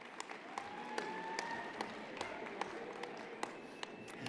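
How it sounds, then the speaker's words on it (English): Graduation ceremony crowd at a University of Calgary convocation gives a round of applause for family and friends, a dense, even patter of many hands heard from a distance, steady throughout with scattered louder claps. "Let's all give the family and friends a round of applause."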